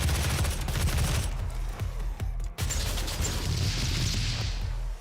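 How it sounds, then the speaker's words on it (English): Missiles detonating on impact in the video game Doom (2016): a dense, loud barrage of overlapping blasts and rapid gunfire-like bursts, continuous throughout with a brief dip midway. "The missiles will detonate shortly after making contact with any surface"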